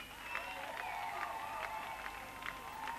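Festival concert audience in Vordingborg clapping, a steady dense patter of applause with a few cheers rising from the crowd throughout.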